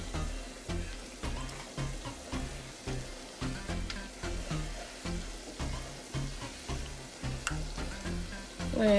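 Homemade donuts fry in hot oil, giving a loud, continuous bubbling sizzle with a pulsing texture that stays close throughout.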